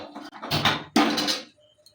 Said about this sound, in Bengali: কড়াইটা বসিয়ে দিয়েছি, ঘি দেব